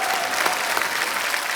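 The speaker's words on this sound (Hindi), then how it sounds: "उसके लिए भी तालियां।" A television studio audience on a comedy talk show breaks into a brief, loud round of clapping, dense and steady with a few sharper claps poking through.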